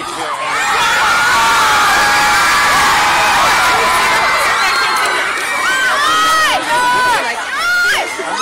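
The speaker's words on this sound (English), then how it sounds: "it just awkward to sit where you are and they're just screaming and yelling?" A packed shopping mall crowd in Seattle at a 2012 Hunger Games fan tour screams and yells continuously, loud and dense, with piercing high shrieks and whoops rising toward the end.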